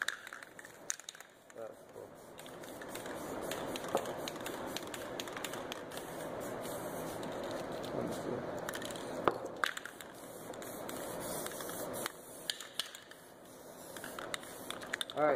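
An aerosol spray paint can hisses almost continuously while a galaxy painting is sprayed, a steady close rush with a few brief pauses and small clicks.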